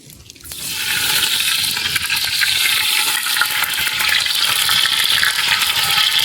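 Cooking oil hitting a hot pan for a spicy fish curry, a sudden onset of loud, steady hissing sizzle that holds and swells slightly as the frying continues alone.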